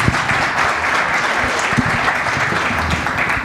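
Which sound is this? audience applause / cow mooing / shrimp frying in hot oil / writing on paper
audience applause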